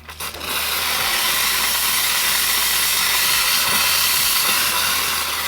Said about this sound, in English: you get your steam blowing like that